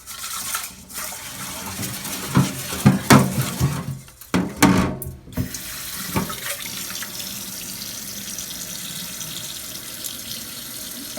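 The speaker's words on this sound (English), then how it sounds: "I'm gonna wash the rice." Water from a kitchen sink tap runs steadily as rice is rinsed, with splashing and sloshing bursts in the first half before settling into a continuous even flow.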